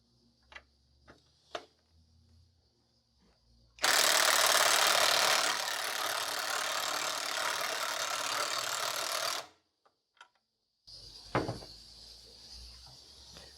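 A power driver on its lowest torque setting drives a screw with a washer into wood: a loud, close whir of about six seconds, then a short burst, with light clicks and handling noises in between.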